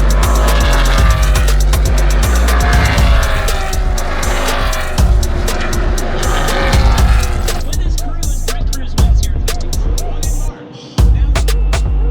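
NASCAR race cars roar down the front straightaway during the championship weekend at Phoenix, a loud continuous engine howl with passing pitch sweeps and a momentary dip near the end, with voices talking underneath.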